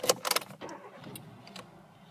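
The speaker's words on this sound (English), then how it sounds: "If I now start this lovely vehicle up" A used Kia Rio SR7 car starting up: a quick burst of starter cranking and clatter right at the beginning, then the engine settling into a soft, steady idle, heard close and without voices.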